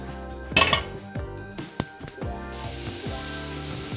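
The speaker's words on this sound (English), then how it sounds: "That is always the sound you want to hear when you're grilling." Food dropped onto a hot grill pan in a rental kitchen: metallic clinks of the pan and utensils, a sharp burst, then a steady close sizzling hiss that builds and holds toward the end.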